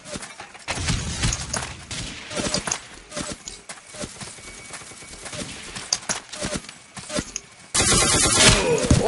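Gunfire in the video game Ace of Spades comes as irregular, rapid bursts of sharp shots, fairly close, ending in a louder, denser stretch of noise.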